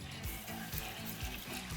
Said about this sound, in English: now I'm going to whisk in some water